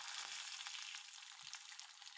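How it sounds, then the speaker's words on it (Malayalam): Mustard seeds frying in hot oil for a Kerala taro-leaf curry, a steady bright sizzle with faint crackling pops throughout, close and alone with no voices. "അപ്പോൾ കടുക് നന്നായിട്ട് പൊട്ടി തുടങ്ങിയിട്ടുണ്ട്"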